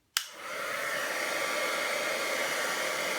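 A heat tool melts silver embossing powder on a card, a steady loud blowing roar that starts abruptly after a moment of silence and holds without a break.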